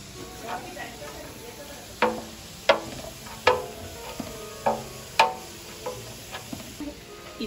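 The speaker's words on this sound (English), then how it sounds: "the leek and the cebollin as well to fry it up a little bit before adding anything else." Leek and chives frying in a pan for a Venezuelan hallaca stew: a steady, soft sizzle runs throughout, broken by about six sharp, evenly spaced clinks of a utensil stirring against the pan, close by.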